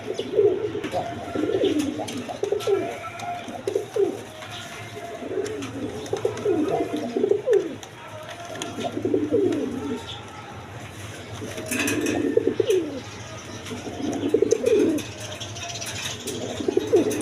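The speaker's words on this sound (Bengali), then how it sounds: "এক পেয়ার ইন্ডিয়ান বোম্বাই কবুতর আছে রেড কালারের মধ্যে" A pair of red Indian Bombay pigeons coo repeatedly at close range, rhythmic throaty bursts every second or two, with someone talking intermittently over them.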